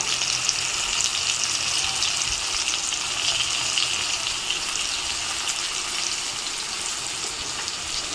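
Spice masala with Kashmiri chili powder, turmeric and salt sautés in a pan, giving a steady, close sizzle that runs unbroken at an even level, without speech.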